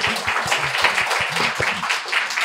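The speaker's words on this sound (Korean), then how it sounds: "박수를 치려면 크게. 다시 한번 그럼 크게 치고." A congregation at a Korean church Sunday worship service claps loudly, with brisk, continuous applause that has a rhythmic pulse and some voices blended underneath.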